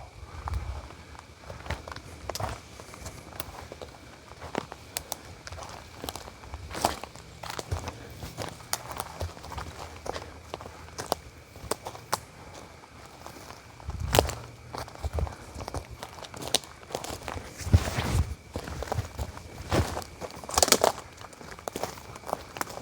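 Footsteps crunch slowly through the woods in northeastern Pennsylvania, steady and close, with a few louder steps near the end and faint birds in the background.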